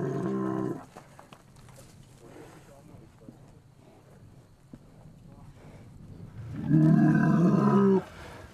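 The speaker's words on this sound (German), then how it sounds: "da hinten ist eine neue Kuh gekommen" A cow moos loudly twice, a short low call at the start and a longer one near the end, with quiet background sounds between.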